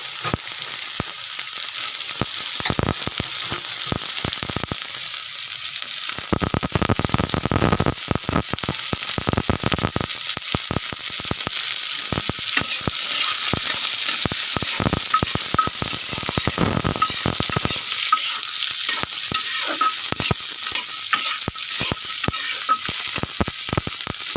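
Chopped carrots and yardlong beans stir-fry in a pan with a continuous bright sizzle, broken by frequent scraping and clicking of a spatula stirring through the vegetables, close and steady throughout.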